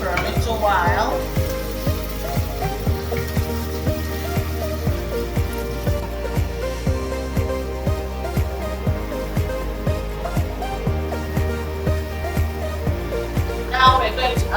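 Food fries in a pot for plantain porridge, a constant crackling sizzle with a regular low rhythmic knocking underneath, close and steady throughout.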